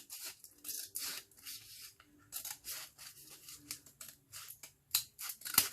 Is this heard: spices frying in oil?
no